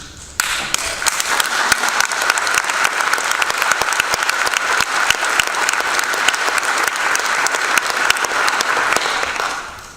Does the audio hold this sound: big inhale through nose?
no